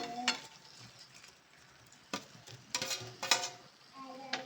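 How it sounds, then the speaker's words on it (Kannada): Fried drumsticks, potato and brinjal are added to masala in a pan and stirred, a quiet sizzle punctuated by several distinct scraping and clattering stirring strokes, close up. "ಈಗ ನಾನು ಏನು ತರಕಾರಿ ಫ್ರೈ ಮಾಡ್ಕೊಂಡಿದ್ದಲ್ಲ ಅದೆಲ್ಲ ಹಾಕೊಂಡ್ಬಿಡ್ತೀನಿ"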